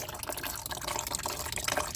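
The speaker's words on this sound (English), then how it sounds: "This thing is still like at the same consistency of dripping." Coolant dripping steadily from a 2019 Ram 1500 Classic into a bucket during a water pump change, a continuous close, moderately loud liquid trickle with no voices.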